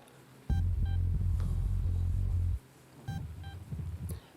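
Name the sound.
beeping sound in a song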